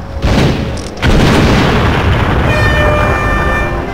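Grenade explosions in the Alien Hominid HD video game, a loud booming blast that cuts out briefly and then swells into a sustained, rumbling roar with ringing tones near the end.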